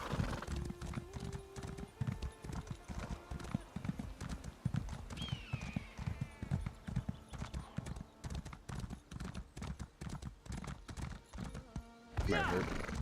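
Rhythmic hoofbeats of a horse ridden in the video game ESO High Isle, a steady clip-clop running nearly throughout with a brief whinny partway, over game music and ambience, with someone talking at times.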